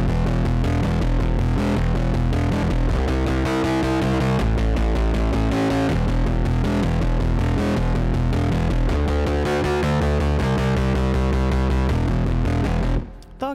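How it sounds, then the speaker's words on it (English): A plugin synth melody runs through guitar pedals, a Space Echo and tape saturation, giving a gritty, distorted, echoing tone with repeating note patterns, loud and continuous until it cuts off abruptly at the end. "coming out through some guitar pedals, and then into a Space Echo, then into the mic pre with the tape saturation"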